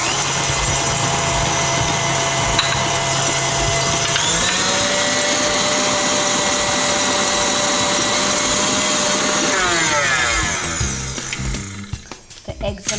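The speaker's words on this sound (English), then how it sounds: "I've got 4 eggs in a mixing bowl and I whisk them until they're light and fluffy." An electric mixer whisks eggs and sugar in a mixing bowl for a sponge cake batter, a steady loud motor whir running without a break for about ten seconds, then slowing and stopping near the end.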